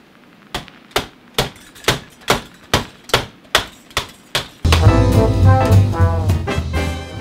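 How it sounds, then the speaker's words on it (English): A run of about nine sharp, evenly spaced hammer blows rings out close by, then loud music abruptly takes over. "You know, for hammering things in."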